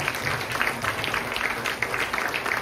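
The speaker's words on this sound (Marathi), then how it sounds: "त्यांच्यासाठी विशेष टाळ्या वाजवतो" An audience at a devotional music concert applauds in a dense, steady wash of clapping that holds evenly from start to finish, with no voices rising above it.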